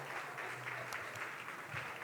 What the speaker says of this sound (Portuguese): Você pode aplaudir a vida desse homem de Deus, em nome de Jesus.